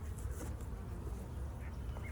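Honey bees drone softly around an opened backyard hive coated with propolis, a faint continuous buzz with a few individual insects passing close, no voices over it.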